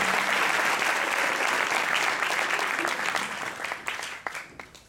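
Applause from an audience at a percussion master class, a dense, steady wash of clapping that holds loud and then thins out toward the end, with a few sharper individual claps standing out.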